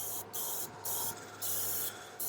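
Airbrush spraying non-toxic paint onto miniatures indoors in a ventilated space: a steady close hiss in several bursts, cut by short pauses between trigger pulls.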